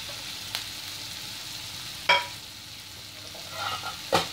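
Green chilies and cauliflower with its leaves frying in a pan for Maharashtrian cauliflower bhaji, a steady soft sizzle broken by a few sharp scrapes of a spoon.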